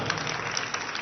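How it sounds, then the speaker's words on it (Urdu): An audience applauds in a brief, fairly faint wash of many hands clapping at once, with no talking over it. "ایک دفعہ زوردار تالیاں، تالیاں رکنی نہیں چاہیے آپ کی"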